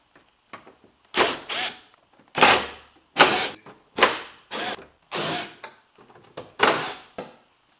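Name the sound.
removing 10 mm screws from an AE86 spoiler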